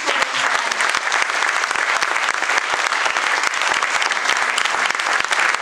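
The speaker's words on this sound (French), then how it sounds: "vous pouvez aussi les applaudir" Warm audience applause fills a hall during a mayor's New Year address, dense steady clapping from many hands lasting several seconds without a break.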